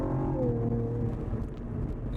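A 2017 Cadillac ATS-V accelerating hard, its engine note climbing in a loud, close, continuous rumble for a couple of seconds.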